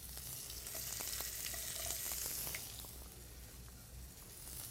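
Onions and carrots sizzling in extra virgin olive oil, a steady close frying hiss with scattered crackles and pops that eases slightly partway through, no speech.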